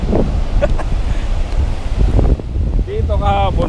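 Strong ocean waves surge and wash onto a beach at night, a broad steady roar mixed with heavy wind buffeting the microphone, while people talk nearby.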